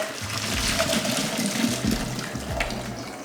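Hot water drains out of a pot after blanching, pouring steadily with splashing and gurgling into a sink, close and fairly loud throughout.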